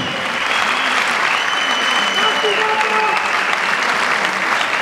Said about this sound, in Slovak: Ale obrovský potlesk určite si zaslúžia aj Lukáš Mandinec.